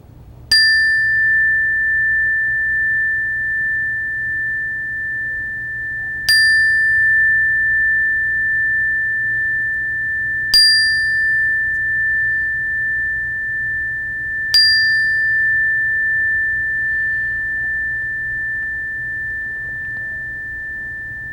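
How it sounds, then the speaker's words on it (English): A mindfulness bell is struck four times, each clear ring sustaining a long pure tone that slowly fades before the next strike, alone in a quiet room. "when I ring this bell"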